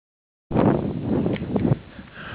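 Blustery wind on a mountain top buffets the microphone in loud, rough gusts, starting abruptly after a brief silence, with faint rattling of hail mixed in.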